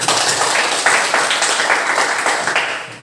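Classroom applause from a group of students, a brisk, close burst of many hands clapping unevenly for a few seconds before stopping abruptly.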